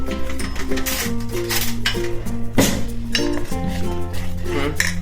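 Salt and asafoetida being stirred into a bhajiya filling for stuffed chilli fritters, with a spoon clinking and scraping against a metal bowl in busy repeated strokes, close and loud over background music.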